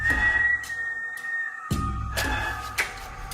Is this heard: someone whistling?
yes